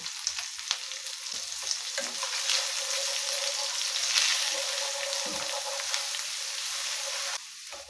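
Ground spice paste of chilli, turmeric, cumin and coriander mixed in water sizzles loudly in hot oil with ginger and garlic for masala chana, a steady frying hiss with stirring scrapes throughout.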